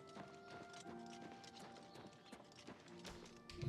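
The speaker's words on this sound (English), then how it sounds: "And now we have a horse" Horse hooves clip-clop in a steady walking rhythm in the video game Elder Scrolls IV: Oblivion Remastered, crisp and close, with soft tonal background music.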